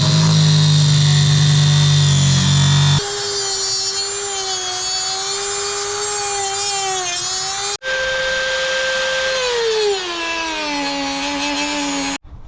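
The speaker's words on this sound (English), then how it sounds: "I am going to have to cut this section out that Andy created" Power tool cutting out a section of rotten softwood plywood inside a 30-year-old camper, a loud continuous whining buzz whose pitch shifts and drops as the blade loads in the wood, briefly stopping and restarting midway.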